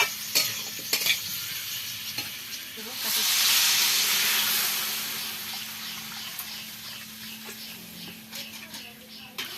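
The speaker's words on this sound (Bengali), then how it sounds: "টমেটো দিয়ে ভালো করে নেড়ে ফেড়ে ঝোল দিয়ে দিই" Tomatoes are stirred into rohu fish curry in a pan, giving a steady frying sizzle with a swell of hissing steam midway and scattered scraping clicks of the spoon, with faint talk in the background.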